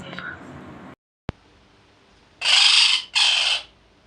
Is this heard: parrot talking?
yes